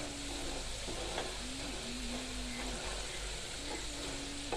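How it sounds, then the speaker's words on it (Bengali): Potato batons deep frying all at once in hot oil over high heat for crispy French fries, a steady broad hiss with faint bubbling and an occasional low tonal hum beneath, with no talk. "এবার চুলার আঁচ হাই করে সবগুলো আলু একবারে দিয়ে এটাকে ভেজে নিচ্ছি।"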